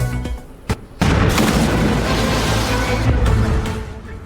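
A US bunker buster bomb strikes a government headquarters in Isfahan: a brief thud, then a loud, rumbling blast that roars on for about three seconds before fading.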